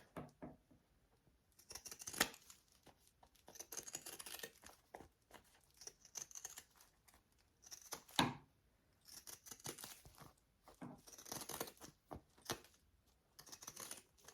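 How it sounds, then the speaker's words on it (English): Pinking shears snip through fabric corners while a Roly Poly sewing bag is assembled, giving a series of crisp, close cutting crunches in irregular bursts, with one sharper snip standing out midway. "I do want to use my pinking shears and kind of trim these corners here"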